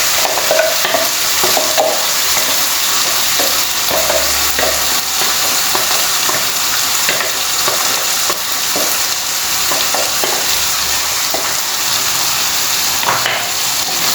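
Masala for a Goan dry and fresh prawn curry is stirred in a hot pan over a medium flame, a loud steady sizzle running throughout with scattered scraping and clinks of the spoon.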